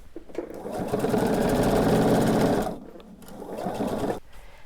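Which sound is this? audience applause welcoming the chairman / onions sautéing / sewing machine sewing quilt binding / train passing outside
sewing machine sewing quilt binding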